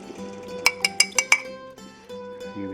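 Spoon knocking against the rim of a pot of spaghetti sauce with meatballs and sausage, five quick ringing metallic clinks in a row, then softer scraping and stirring noises close by.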